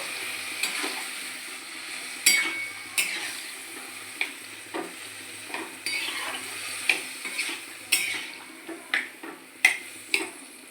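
Boiled yam and potato pieces stir-fried in a pan, with a continuous sizzle broken by repeated scraping clinks of a spatula against metal at an uneven, quickening rhythm.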